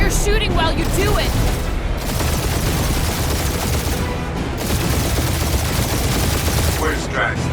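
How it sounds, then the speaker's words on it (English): Sustained gunfire and blasts in the Marvel's Guardians of the Galaxy action game, a continuous loud barrage of shots and booms running throughout with characters speaking over the din. "Just make sure you're shooting while you do it"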